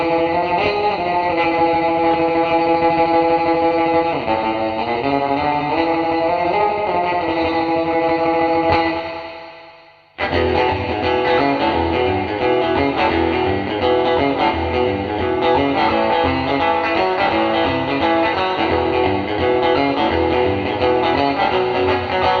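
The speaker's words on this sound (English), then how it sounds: "So here's the spring reverb with a lot of reverb for classic surf sounds" Electric surf guitar runs through a TC Electronic Hall of Fame reverb pedal set to heavy spring reverb, playing loud sustained chords and riffs with a washy tail, a brief drop to silence midway, then more picked notes.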